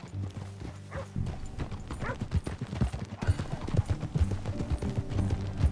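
Horse hooves clip-clopping in a video game, a steady walking rhythm of hoofbeats that grows slightly louder and busier, with faint background game sounds and no talk.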